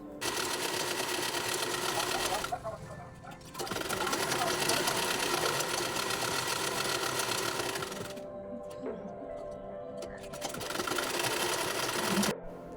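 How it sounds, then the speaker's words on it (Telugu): A home sewing machine stitches a cloth border, running in a loud steady whir that stops briefly twice and starts again, while someone talks over it. "నేను మిషన్ అయితే కుడతాను"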